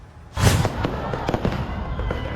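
Fireworks display in Oroquieta, Misamis Occidental, with rockets veering into the watching crowd: a loud close burst followed by a scatter of crackling pops and smaller bangs over a constant noisy background.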